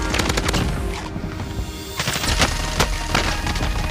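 Loud, close automatic gunfire in the Warzone video game, sustained rapid bursts of shots with booming impacts running almost continuously, with no voices.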